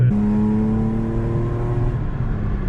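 A BMW E36 drift car's engine and exhaust give a loud, close, raspy drone with a steady low tone that holds and then fades slightly toward the end.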